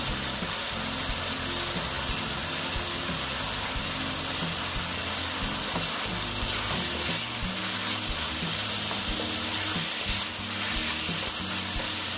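Ingredients for a potato and lentil-dumpling fish curry with pabda fish sizzle and fry steadily in a pan, a continuous loud crackling hiss with occasional stirring scrapes and no talking.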